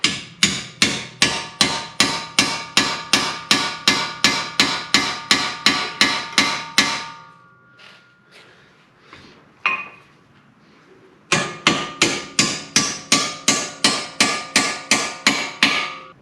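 A hammer taps bolts through a car steering knuckle during a Lincoln MKZ transaxle replacement: rapid, steady metallic blows, about two per second, a pause with faint handling noise, then another even run of strikes.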